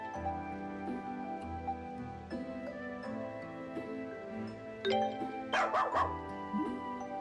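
A dog barking in the video game Ys: Memories of Celceta, short yips and barks over tonal game music, with a brighter chime flurry near the end.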